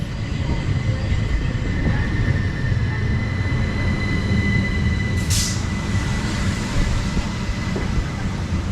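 A Southeastern passenger train rumbles steadily into a station in Kent at close range, with a faint high wheel squeal and a brief hiss partway through.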